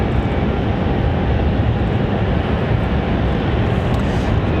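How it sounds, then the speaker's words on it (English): A Southwest Airlines jet departs Raleigh-Durham, giving off a broad, steady engine roar that stays loud and even from start to finish. "Southwest 3641 off to Nashville, Tennessee"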